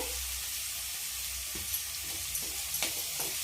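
Turmeric frying in oil with ginger garlic paste, a soft continuous sizzle with a few light stirring taps, fairly quiet and without talk.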